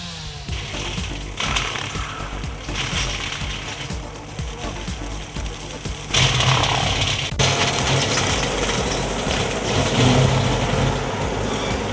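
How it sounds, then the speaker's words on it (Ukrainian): A tractor clears vegetation under power lines, a loud continuous engine and mechanical clatter with rattling and crunching, growing louder in the second half, with no talk. "Ось, наприклад, як цей трактор."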